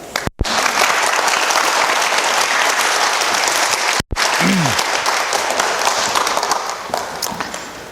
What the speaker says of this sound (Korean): 큰 박수로 환영해 주십니다.